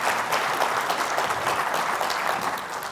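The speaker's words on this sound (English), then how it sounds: "Let's give them a round of applause, please." Steady applause from a conference audience at a city economy event, a dense even wash of clapping that runs throughout without talk.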